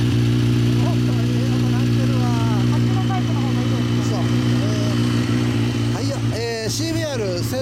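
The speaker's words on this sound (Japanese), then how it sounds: "ごめん、エンジン音聞かせて。" A 2013 BMW S1000RR motorcycle fitted with an Akrapovic exhaust idles steadily with a constant low drone, while people talk over it and a brief rev swells near the end.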